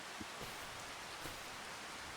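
Rain falls in the farming video game Farming Simulator 25 as a dense, even hiss with a few soft drop taps, steady and moderately quiet with no voices.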